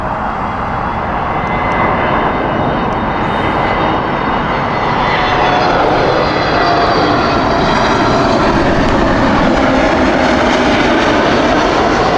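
A Kuwait Airways airliner roars on the runway at Heathrow Airport, a loud, continuous broadband engine rumble with a whining upper layer, steady and close throughout with no speech.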